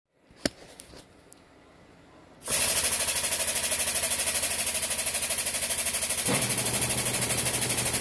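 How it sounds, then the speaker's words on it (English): A pneumatic hydraulic pump, fed by compressor air and used during a Woods L59 mower spindle rebuild, starts after a few quiet clicks and then hammers loudly and rapidly in a steady pulsing rattle that drops slightly in pitch near the end. "These pneumatic hydraulic pumps are huge air hogs."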